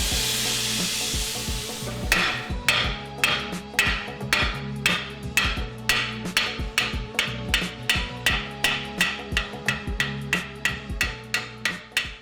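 A rivet hammered on a forged griddle in a blacksmith's shop, a long run of steady, evenly spaced metallic hammer strikes, close and ringing, after a brief noisy hiss at the start.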